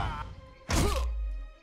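An attack lands in the video game Pillars of Eternity, a single heavy thunk with a bright crash and a deep booming tail, following brief game sounds.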